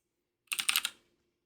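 A short burst of computer keyboard typing, about five quick keystrokes entering a command on a Linux machine, close and fairly quiet with no talk.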